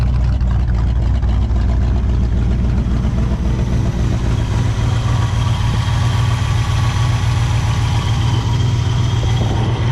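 Loud, close, steady idle of a 1964 Pontiac Catalina barn find revived after over 30 years, a deep even rumble holding throughout with no talk.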